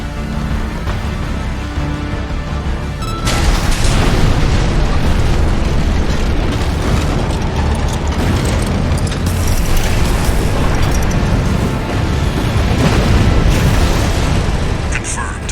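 The Juggernaut being destroyed in Armored Core 6, a dense roar of explosions and rumbling blasts that surges in after a quieter opening and stays loud, with a voice speaking over the chaos.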